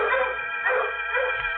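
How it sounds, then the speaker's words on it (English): Dogs set up a loud, sustained howling holler outside at night, like bloodhounds at the end of a chase, heard as a continuous baying chorus in a radio drama sound effect, with no talk over it. "the dogs outside set up a holler that raised goose pimples all over me"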